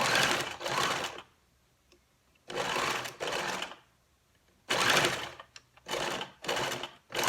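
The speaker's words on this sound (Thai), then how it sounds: "ส่วนของปลายด้านนี้ก็พับผ้าเข้าด้านในนะคะ แล้วก็เย็บค่ะ" Sewing machine running along a folded fabric edge of a homemade chef hat, heard in several distinct bursts of fast stitching separated by short quiet pauses.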